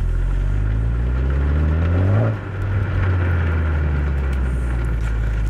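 A Honda Type R engine and exhaust with its mid silencers removed, heard as a loud, close, droning rumble whose pitch climbs under load, dips briefly as the revs drop, then settles into a steady hum.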